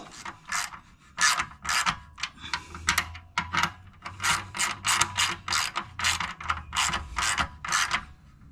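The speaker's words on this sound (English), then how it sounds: "now I'm just going to tighten up the bolts at the bottom" A ratchet tightening the lower shock absorber bolts on a Honda Rebel 1100T motorcycle, bursts of rapid clicking strokes repeated in a steady back-and-forth rhythm, close and clear with no talking.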